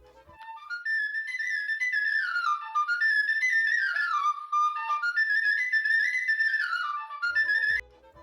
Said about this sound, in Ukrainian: А тепер давайте ще раз послухаємо звуки сопілки.